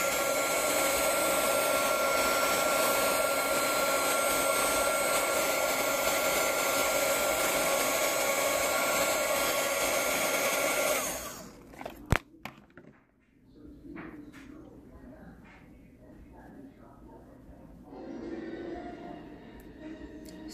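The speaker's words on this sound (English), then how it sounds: "I'll actually take my heat gun. And heat it up just a little bit." A heat gun warms epoxy on a woodgrain-effect geode cup, its loud steady blowing whir running for about eleven seconds before cutting off, followed by faint handling clicks and quieter room noise.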